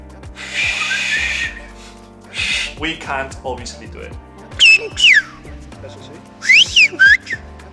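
Someone speaks, then two bursts of sliding, high-pitched whistles rise and fall: the whistled language of Tenerife, imitating whistled speech.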